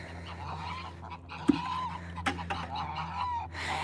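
Geese honk repeatedly nearby, a few loud nasal calls standing out over a low, steady background hum.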